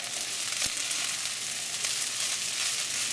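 Longganisa fried rice with ground black pepper sizzles steadily in a hot pan as it is stirred, a bright continuous hiss with a few soft scraping taps.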